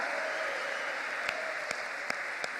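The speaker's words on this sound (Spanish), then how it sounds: "A ver, un aplauso en serio." Audience applause fills a church service during a sermon, a steady broadband wash of clapping with a few sharper claps standing out near the end, no voices over it.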